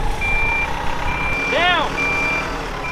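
Tow truck backing up with repeated steady backup beeps over a rumbling idling engine, with a person speaking briefly during it.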